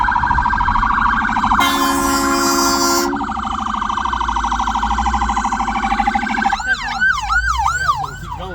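A loud wailing ambulance siren close by, switching to a rapid yelping pattern near the end, with traffic rumbling underneath.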